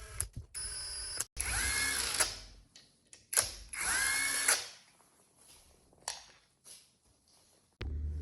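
A power tool drives engine case bolts on an ATV in short, loud whirring bursts separated by pauses, recorded close in a quiet workspace.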